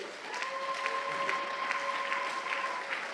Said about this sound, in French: On peut acclamer le Seigneur.